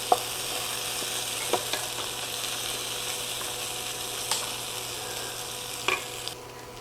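Potatoes fry in a skillet with a steady, close sizzle, broken by a few sharp scrapes and clicks of stirring, and no voices.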